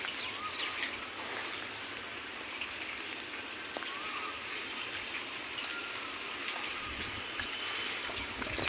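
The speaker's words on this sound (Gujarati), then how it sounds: "તમે જોઈ શકો રાજકોટમાં વરસાદ છે ચાલુ ભાઈ" Rain falls in Rajkot near the old airport, a steady, even hiss of drops that continues without a break and sounds fairly close.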